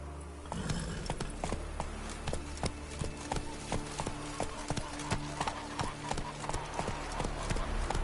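Roach the horse's hooves clip-clop at a steady trotting rhythm in The Witcher 3, loud, close and continuous, with a faint background score and no voices.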